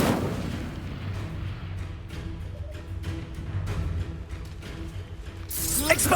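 An Incendio fire spell cast during combat in Hogwarts Legacy gives rumbling, crackling bursts amid other battle effects, ending in a bright whooshing blast.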